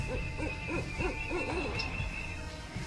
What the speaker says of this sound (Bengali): নিঃশ্বাস স্তব্ধ তৃণভূমিতে মাঝে মাঝে রাত পাখির ডাক শোনা যাচ্ছে